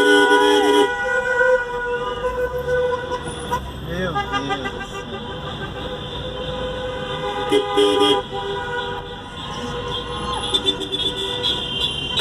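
Car horns honk repeatedly in sustained toots and short blasts during a Bolsonaro campaign motorcade of some two thousand cars, loud and close over a rumbling crowd of engines, with voices talking throughout.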